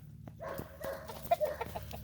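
Hens clucking close by, a few short bursts and murmuring clucks over about two seconds with no talking.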